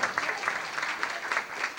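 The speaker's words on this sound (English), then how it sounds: "Having a nice round of applause for Joel first." Brief, fairly quiet applause from guests at a 175th birthday party, a scattered patter of hands in a room.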